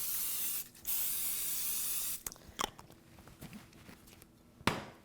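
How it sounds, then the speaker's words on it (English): Cooking spray misted into an 8x8 baking pan: a steady close hiss of about a second and a half after a brief opening burst, followed by quiet handling clicks and a short final spritz. "We are going to spray it with cooking spray."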